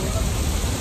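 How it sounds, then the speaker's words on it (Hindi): Steady rain falls outdoors in Manchester town, where shoppers sit outside in the wet, a dense, even hiss lasting under a second, with faint voices mixed in. "बारिश में बाहर बैठना पड़ रहा है"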